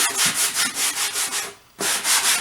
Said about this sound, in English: I am only using my sanding sponge